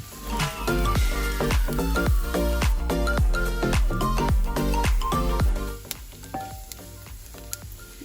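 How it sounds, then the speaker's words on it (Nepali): Gundruk, fermented mustard greens, being stir-fried on low heat, with a steady sizzle and occasional stirring running beneath loud rhythmic music. "गुन्द्रुक मिठो बनाउनको लागि चाहिँ यो लो हिटमा यसलाई चलाइकन क्रिस्पी हुन्जेलसम्म भुट्नुपर्छ"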